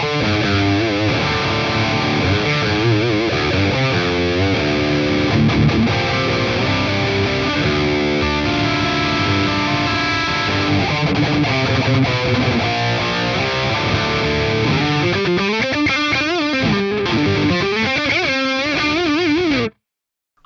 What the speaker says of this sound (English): This is a great model as well.